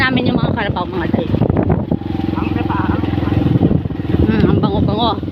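An enduro motorcycle engine drones and pulses continuously on a rural trail, close and loud with wind buffeting, while a person talks over it.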